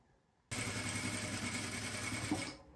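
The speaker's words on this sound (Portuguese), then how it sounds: "vamos passar uma costura aqui ao redor para fixar esse forro" A sewing machine runs in one continuous burst, stitching a lining onto a fabric shoulder bag, a close, steady motor whir that starts abruptly and stops after about two seconds.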